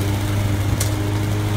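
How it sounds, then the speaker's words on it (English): A small mower engine drones steadily and close, a constant buzzing hum with a brief click partway through. "we decided to do the push mowing instead of fighting with the mower"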